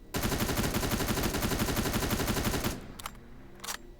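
Rapid, sustained automatic gunfire in the video game Terminator Resistance, a dense loud burst lasting nearly three seconds, then stopping abruptly and followed by a couple of sharp isolated shots.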